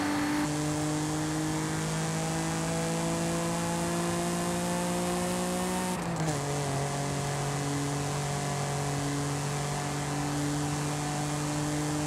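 Twin-turbo Audi engine in Forza Horizon 5, a steady loud drone with sustained harmonic tones that hold level, dip briefly around a gear change, then carry on at a slightly lower pitch.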